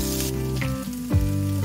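Sweet potato strips fry over low heat in an oiled pan, giving a steady, close sizzle and crackle with no voices.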